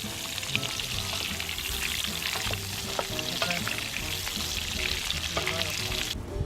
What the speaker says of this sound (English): Just gonna put another margarine. Add the sausage now.